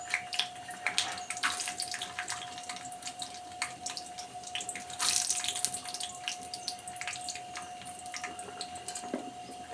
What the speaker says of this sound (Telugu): ఆయిల్ హీట్ అయింది. ఫస్ట్ పల్లీలు వేస్తున్నాను.